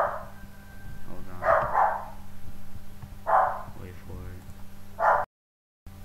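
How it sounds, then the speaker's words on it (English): A small dog barks indoors in a few separate sharp, fairly loud bursts spaced a couple of seconds apart, while someone talks over and between them. "that was my dog barking"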